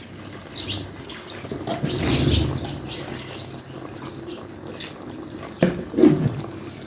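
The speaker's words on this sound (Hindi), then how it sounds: "तो 1 कप और मैं डाल देती हूँ पानी।" Water pours into a cooking pot for chicken biryani, a brief gushing splash early on followed by quieter kitchen sounds and a couple of short clinks near the end, with no talking.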